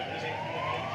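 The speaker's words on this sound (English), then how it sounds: "Another ambulance rumbles past on its way either to or from the hospital." An ambulance siren sounds as it passes by on a city street near a hospital during peak hour, a steady wailing tone rising slowly in pitch, moderately loud and continuous over a low traffic rumble.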